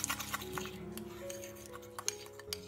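A spoon clinks against a bowl while mixing in cinnamon powder, a string of light metallic taps and clicks close by, irregular and fairly quiet, with no voices.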